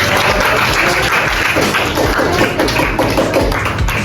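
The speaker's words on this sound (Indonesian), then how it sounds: "Tepuk tangan dulu." Loud, sustained clapping from a group of students in a classroom, dense and steady throughout, close by with no pauses.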